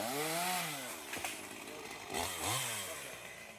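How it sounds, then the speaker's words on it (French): A chainsaw revs and bogs loudly as it cuts a path through dense bush, its engine pitch rising and falling in repeated surges, with no talk over it. "C'est à la tronçonneuse qu'il faut se frayer un passage dans la brousse."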